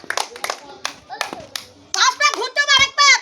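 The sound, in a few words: children clapping loudly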